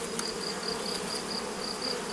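Honeybees and drones buzzing at an open hive during a frame inspection, a dense steady hum with a faint higher whine, continuous and fairly quiet, no voices.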